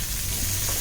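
Onion and garlic fry in hot oil for a Malvani-style squid curry, a steady dense sizzle holding close and even throughout the short stretch.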